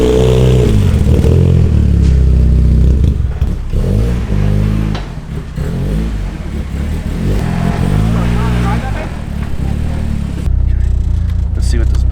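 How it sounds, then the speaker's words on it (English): A Chevrolet LS-swapped car's engine rumbles loud and close, revving up and down repeatedly with a deep, throaty drone and some mechanical clatter, while people talk over it. "Love the way this car sounds."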